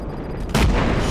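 A single loud grenade blast in Just Cause 3 during a bridge fight, one sharp booming explosion that hits suddenly and rolls off into a short rumbling tail.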